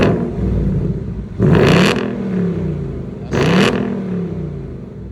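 Ford Mustang GT V8 revved twice in sport mode with active exhaust open, each rev a loud rising roar that falls away to a rumbling idle, the two blips spaced about two seconds apart.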